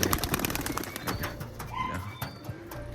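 Domestic pigeons kept in a coop, among them a single hen, coo softly and repeatedly close by in low throaty phrases, mixed with sharp clicks and brief rustles of movement.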